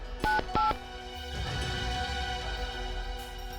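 Two short electronic keypad tones as a phone number is dialed on a mobile, followed by a low rustling rumble of handling.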